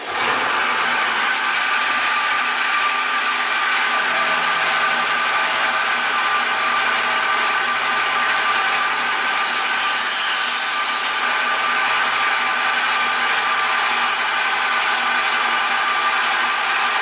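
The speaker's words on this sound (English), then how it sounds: "the bottom side just has this right here, and then we're going to face it off and run a chamfer around it." A PM727MXL CNC mill faces off an aluminum lift plate, producing a continuous close, steady whine and hiss of cutting that runs unbroken for about seventeen seconds with no talk.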